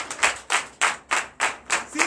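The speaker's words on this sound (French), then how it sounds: "Donne l'acclamation à Jésus" A church congregation at a Sunday worship service in Comè, Benin, claps together in acclamation: about seven steady, evenly spaced group claps, loud and close, with no talking.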